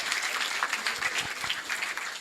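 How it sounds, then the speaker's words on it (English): A classroom of pupils claps for a student, a brisk, fairly even round of many hands heard at moderate distance throughout. "Guys, a big clap"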